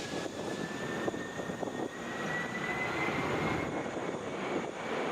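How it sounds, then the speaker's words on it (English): A Delta Boeing 767 jet at Atlanta airport, bound for Dusseldorf, produces a steady broadband engine roar with a faint high whine, constant and moderately distant throughout. "Getting ready to go here is Delta Flight 90 to Dusseldorf, Boeing 767"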